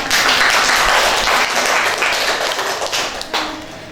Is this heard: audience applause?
yes